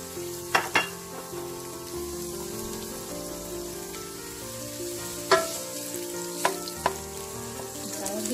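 Onions frying in olive oil for Filipino igado, a continuous close crackling sizzle with a few sharp pops and spatters scattered through, no voices.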